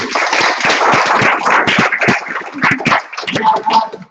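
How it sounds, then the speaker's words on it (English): Audience applause at a community media conference session, a dense spread of hand claps lasting about four seconds, loud and close with slight swells, mixed with faint murmur of voices. "Round of applause for those people."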